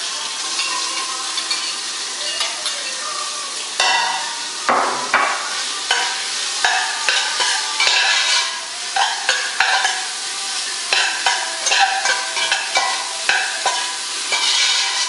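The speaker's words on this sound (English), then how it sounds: "We're going to get the bacon and start frying it first." Bacon sizzles steadily in a pan, with spatula scrapes and clatters breaking through the constant crackle.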